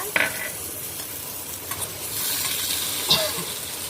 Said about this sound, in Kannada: ಅದಕ್ಕೆ ನೆಲಕಟ್ಲೆ ಒಂಚೂರು ಹುರ್ಕೊಂತ ಇದ್ದೆ